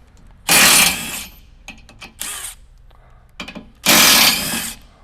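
A ratchet works 13mm bolts on a 2017-2022 Ford F-250 rear bumper, with three loud, close bursts of rapid clicking separated by quieter gaps of faint handling noise.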